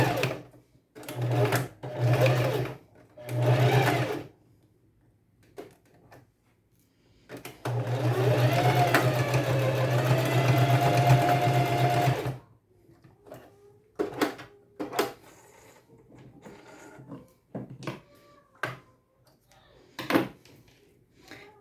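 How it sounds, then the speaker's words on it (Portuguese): A domestic sewing machine sewing a straight stitch seam on a bodysuit, several short whirring bursts followed by one longer steady run, with handling clicks and rustles in the quiet gaps. "eu vou usar o ponto reto, a costura reta da doméstica"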